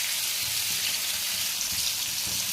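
Steady crackling sizzle of fish frying in hot oil, continuous and fairly close, with no voices.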